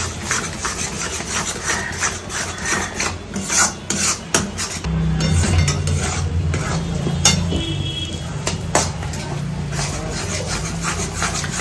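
Stirring in a pot while cooking a pea-filled kachori and potato dum meal, a steady scraping, rasping rub of utensil against the pot that runs nearly continuously and close up, with no talk.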